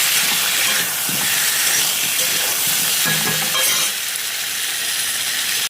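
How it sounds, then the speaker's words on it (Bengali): Potatoes and pointed gourd stir-frying in a pan, with a steady loud sizzle, hiss and scraping stirs throughout, no voices. "তো আলুগুলো পটলের সাথে ভালো করে নেড়ে চেড়ে"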